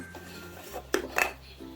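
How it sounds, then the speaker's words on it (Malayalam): A pressure cooker lid is opened with no weight on after baking a cake, giving a couple of close metallic clanks and scrapes over a quiet kitchen background. "ഗ്യാസ് ഓഫ് ചെയ്ത ഉടൻ തന്നെ നമുക്ക് ഈ കുക്കർ ഓപ്പൺ ചെയ്യാം."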